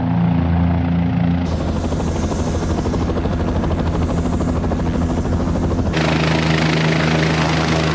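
Kiowa military reconnaissance helicopter in flight, a loud continuous rotor and turbine drone with steady low pulsing that stays close and dominant throughout, no voices.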